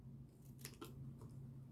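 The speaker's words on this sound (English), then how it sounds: "take your scissors and just slightly cut off a nib" Scissors snip a small nib off the edge of a die-cut designer handbag, giving two or three faint, quick cuts over a low background hum.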